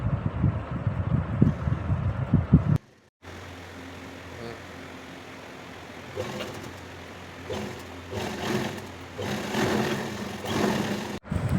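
A sewing machine stitches the shoulder seams of a ladies' suit kameez, giving a steady, continuous motor hum that cuts out briefly before running on with slight changes in pace.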